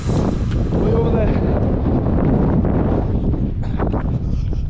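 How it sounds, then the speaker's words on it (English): Strong headwind buffets a runner's microphone on a coastal route near Porthcawl, a continuous loud rumbling roar that fills the clip without letup. "I've had a consistent headwind since Porthcawl, really."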